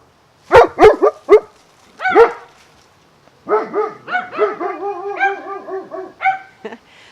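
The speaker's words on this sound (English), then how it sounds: "We'll never get through a video without the dogs barking." Several dogs barking indoors: a few sharp barks, then a quick run of yips and whiny barks, loud and close with no talking.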